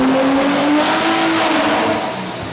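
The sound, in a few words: Nissan R33 GTST engine revving on dyno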